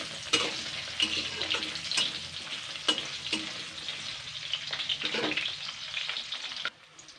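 Diced peeled potatoes frying in a pan give a loud, dense crackling sizzle, broken by a few sharp stirring knocks, before cutting off abruptly near the end.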